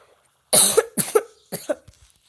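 Three bursts of harsh coughing, each a sharp hack followed by a second or third shorter one, close and fairly loud with quiet gaps between.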